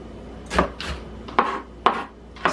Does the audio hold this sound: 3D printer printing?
no